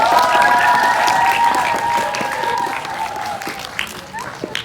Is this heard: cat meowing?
no